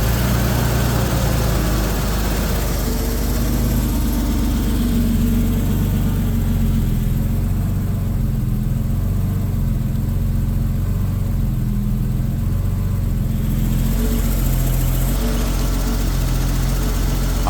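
A 1980 BMW 528i E12 engine idles after a cold start, a steady low rumble with a strong bass throb that holds even and close throughout, with no talk over it.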